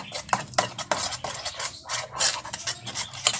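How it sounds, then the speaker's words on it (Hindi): A spoon stirs and scrapes chili spice paste mixed with oil in a bowl for steamed fish, in repeated rubbing and clinking strokes close by, with no talk over it. "इसको अच्छी तरह ये देखिए इस तरह मिक्स कर लेंगे"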